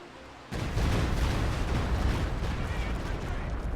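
Heavy artillery firing in the video game Company of Heroes 2, a sudden booming onset followed by a sustained rumbling roar of bombardment, loud and continuous.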